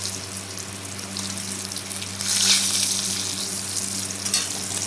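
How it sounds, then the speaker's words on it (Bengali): Pointed gourd (potol) fries in oil in a pan, a steady close sizzle with a brief louder burst midway, and no talking. "এই যে পটল ভাজা অলরেডি হয়ে গেছে"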